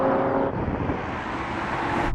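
Four SUVs, a Bentley Bentayga Speed, Mercedes-AMG G63, Porsche Cayenne Turbo and Suzuki Jimny, accelerate hard in a drag race, with a continuous roar of engines and rushing road and wind noise.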